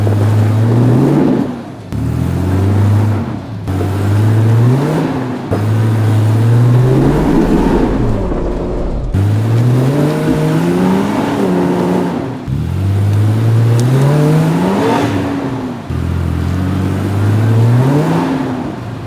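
A Nissan Patrol 4WD climbing a steep trail near Coffs Harbour revs hard against the limiter, the engine note rising and bouncing in repeated surges over nearly twenty seconds, loud and close with no talking.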